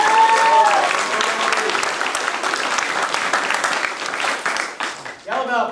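Audience applause and cheering fill a belt ceremony at a family martial arts center in 2009: dense, steady clapping from a close crowd, with a sharp whistle early on and the clapping thinning near the end.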